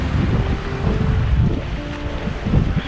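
Wind buffets the microphone at a sea shore, with rumbling gusts that rise and fall over surf-like noise and no voices.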